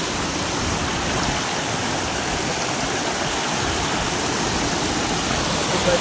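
A monsoon-season waterfall pouring steadily, a dense, loud broadband rush of falling water with no breaks, heard close and alone.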